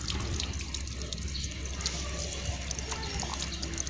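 Water from a connected supply line flows out of a mechanical float valve in a steady, close trickling gush with small splashes and drips, and no voices over it.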